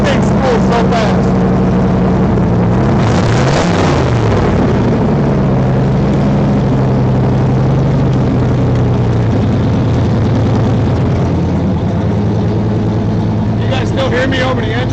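Engine of a Mustang project car running steadily nearby, a loud continuous low rumble throughout, with someone talking over it.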